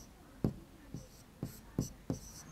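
Marker or chalk strokes on a classroom board during a maths lesson give five sharp, evenly spaced taps and scrapes, close and clear, with no talking.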